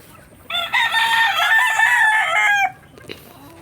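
A rooster at a backyard farm chicken coop lets out one loud, close crow lasting about two seconds, followed by faint clucking and quiet farmyard background.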